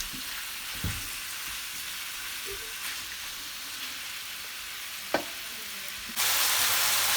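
Lamb for peppered pot lamb frying in a pot over a fire, a soft steady sizzle broken by a few scraping stirs and one sharp clack, swelling into a louder hiss near the end.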